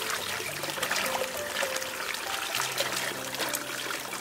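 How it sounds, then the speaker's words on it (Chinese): Muddy wild fruit rinsed in cold running mountain water, a steady close trickle and splash of flowing stream water continuing throughout without talk. "在这里洗一下，洗了回去再洗"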